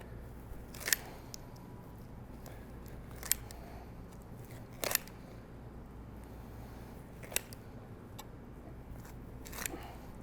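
Rib costal cartilage being cut through during an animal dissection to open the body cavity: about five sharp, isolated crunchy snips spread over ten seconds against a quiet room background, with no talking.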